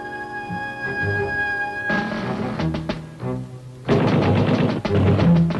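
WW1-era machine gun firing in archival footage, heard as dense rapid bursts of loud gunfire that break off and resume, with a steady tone underneath in the opening seconds.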